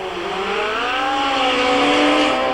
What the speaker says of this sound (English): the explosive class of Top Fuel motorcycle